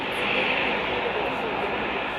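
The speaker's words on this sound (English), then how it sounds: "The planes take to the runway and begin to taxi out." Kenya Air Force military planes taxi out toward the runway at an air show, a steady broad engine roar that stays constant throughout.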